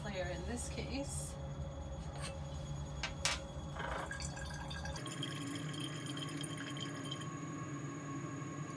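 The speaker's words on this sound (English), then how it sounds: "We'll drain the bottom layer, which again is the aqueous layer in this case." Aqueous bottom layer drains from a separatory funnel, a steady trickle of liquid with scattered drips over a continuous background hum, which shifts partway through.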